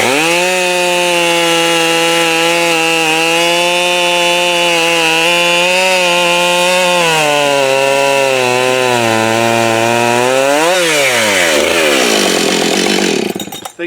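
A chainsaw cuts through wood at full throttle, a loud steady close whine that sags in pitch under load, then rises and cuts off abruptly at the end.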